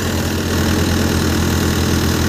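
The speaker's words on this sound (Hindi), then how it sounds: "देखो, ये डाली इसने थ्रेसर में, और ये देखो ट्रैक्टर पे कोई असर नहीं है" A Malwa multi thresher runs on a Euro 55 tractor, a loud, steady mechanical drone with a rhythmic low engine throb and dense rattling, close and constant throughout.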